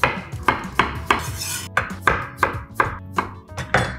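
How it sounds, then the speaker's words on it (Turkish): Rapid knife chopping as potatoes are sliced into thin rings on a board, about a dozen crisp, evenly spaced cuts close by with light clinks of kitchenware and no talking. "Gördüğünüz gibi gayet hızlı bir şekilde patateslerimizi doğradık."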